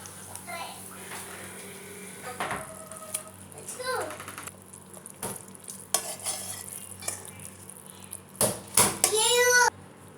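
Malpua pitha frying in hot oil, a steady crackling sizzle with occasional clinks of a utensil, while a voice speaks nearby and a high bright clatter rises toward the end.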